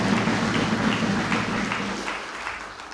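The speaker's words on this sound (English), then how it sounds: "Let us a round of applause." Audience applause at a public address in Kenya: a steady, dense wash of clapping that holds for most of the span and then eases slightly, with no voices over it.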